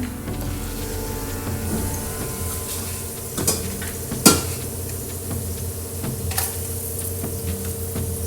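A spoon scrapes and clinks in a pan of hot oil as asafoetida goes into a tempering for starfruit chutney, with a low sizzle underneath and a few sharp metallic knocks.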